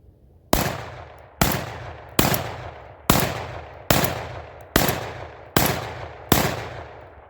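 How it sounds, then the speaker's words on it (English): A Panzer EG200 gas-piston shotgun fires eight Aguila 1 1/4 ounce birdshot hunting shells: eight loud, sharp reports at an even pace, each with a short decaying tail, and no talking. "Okay, we got Aguila 1330, 1 1/4 ounce, light piston, gas system, 8 rounds in the shotgun."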